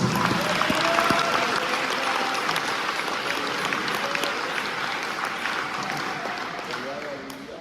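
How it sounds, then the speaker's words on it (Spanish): Sustained applause from a church congregation fills the space, steady and dense before gradually easing off toward the end. "Damos ese aplauso, hermanos."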